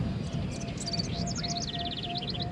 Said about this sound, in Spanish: estas aves cantan así cuando no hay helicópteros militares sobrevolando ni avionetas fumigando